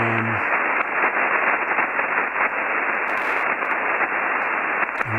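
Dense, steady hiss of atmospheric band noise on the 40-meter amateur radio band, loud and continuous throughout with faint tonal carriers and brief static bursts, no voices.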